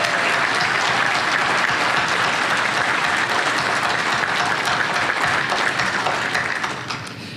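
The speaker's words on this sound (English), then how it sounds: "That deserves an even bigger round of applause than that." A dinner audience at a county Republican Party Lincoln Reagan Dinner breaks into loud, dense, sustained applause from many hands, tapering off at the very end, with no speech over it.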